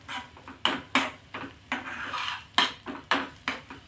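A spoon scrapes and knocks against a pan while egg is mixed into pigeon pea seeds, with about eight irregular strokes of clattering and rasping, close and fairly quiet, and no voice.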